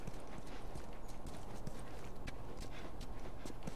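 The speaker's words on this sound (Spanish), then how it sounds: "abrir la puerta a nuestra compañera Eli, para que entre con el caballo" Horse hooves clip-clop steadily in The Last of Us Remastered on PS4, a rapid, even trotting rhythm, fairly close and continuous over a dense game ambience, with no voices.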